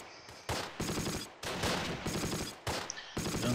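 Close-range machine-gun bursts in Close Combat: The Longest Day, a World War II tactics game, with several loud rapid volleys separated by short pauses.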